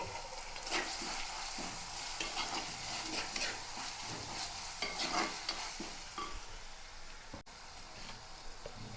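Curry leaves crackle and sizzle in hot oil with green chilies while being stirred, a steady close frying hiss broken by repeated scraping strokes throughout.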